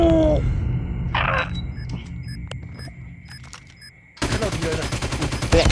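Video-game machine gun fire in Call of Duty erupts as a loud, rapid burst near the end after quieter game sounds and scattered electronic beeps.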